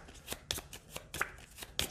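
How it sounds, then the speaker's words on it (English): A deck of game cards for a Pathfinder adventure card game is shuffled in several quick riffles, crisp close-up flurries spaced roughly every half second with soft handling noise between. "Shuffle, shuffle, shuffle."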